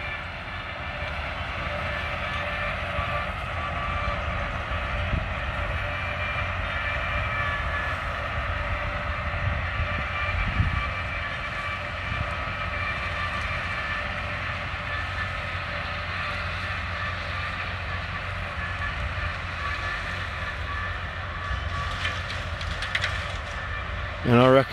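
A Case 5130 tractor pulling a Tarrup trailed mower across a field, its engine a steady, loud, continuous drone with mechanical whine and rumble, heard close up from the cab throughout.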